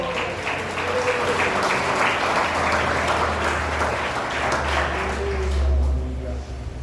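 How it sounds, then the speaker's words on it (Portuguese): A large church congregation applauds steadily and loudly during a sermon, dense clapping filling the whole stretch, with voices and a low hum underneath. "Aplauda o Senhor."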